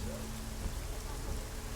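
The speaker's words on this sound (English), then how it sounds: "I do love some rain." Rain in the video game Deus Ex: Human Revolution falls as a steady, dense hiss with a low rumbling undertone, continuous and even throughout, fairly soft.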